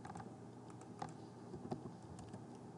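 Computer keyboard keys, including the spacebar, pressed during AutoCAD drafting; a few quiet, scattered clicks and taps sound faintly at close range against a low background hiss.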